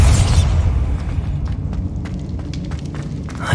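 A Bombarda explosion spell goes off in the video game Hogwarts Legacy, a loud deep boom at the outset followed by rumbling debris and scattered crackling impacts as the blast settles.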